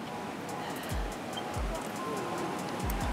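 Sea surf at Nessebar, Bulgaria, a steady wash of waves with a broad rushing roar and low thumps from wind or handling noise, loud and continuous, with no talking.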